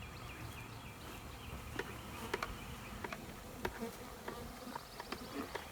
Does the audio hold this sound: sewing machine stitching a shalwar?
no